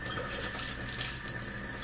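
Cool tap water runs steadily from a faucet over two pork chops being rinsed in a sink, a constant close splashing hiss with no talking.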